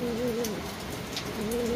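A racing pigeon coos in soft, wavering low calls, two cooing phrases separated by a short pause, close by over a steady background hiss resembling rain.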